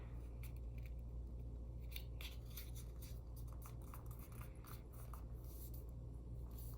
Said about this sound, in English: I'm going to fold the top of my paper down to the crease in the middle, just like this.